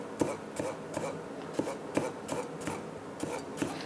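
A knife slices pickled radish into half-moons with a scraping stroke on a cutting board. About ten crisp, evenly spaced cuts land roughly every half second, close and clear, with no talking.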